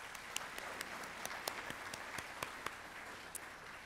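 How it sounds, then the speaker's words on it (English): An audience at an awards ceremony applauds: a faint, distant, continuous wash of clapping with a few sharper individual claps standing out, and no talking. "One more round of applause."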